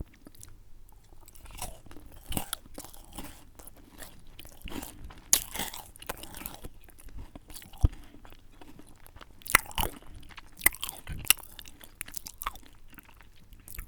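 Close binaural chewing of a KitKat bar with peanut butter, soft crunches and bites recurring irregularly, faint and intimate with quiet gaps between them.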